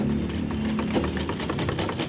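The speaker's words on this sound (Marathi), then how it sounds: "आता मी इकडून पुन्हा शिलाई करून घेते." Sewing machine stitching fabric while making leggings, a steady close whirring hum with a fast continuous rhythm and no pauses.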